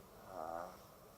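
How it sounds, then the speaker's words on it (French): A cow's soft, low rumbling purr swells briefly and fades, a single breathy vibrating hum in a quiet setting. "Cette vache ronronne."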